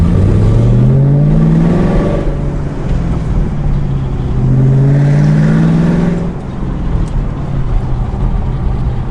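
A 2015 Camaro 2SS 1LE with a six-speed TR6060 manual gearbox revs loudly and close by, its exhaust rising and falling through two strong sweeps with a downshift blip and crackling pops on the overrun, and no talk over it.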